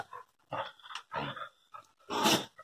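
A female dog barks and growls nearby in four loud, rough bursts separated by short pauses.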